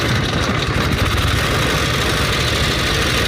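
A 1916 Harley-Davidson sidecar motorcycle engine runs steadily and loud, a dense low idling rumble with fast even pulsing close by.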